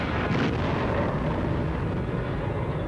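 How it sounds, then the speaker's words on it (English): Loud, sustained rumbling blast aboard a boat during wartime Britain in 1940, a dense low roar filling the whole stretch without a break. "there came the most terrible explosion"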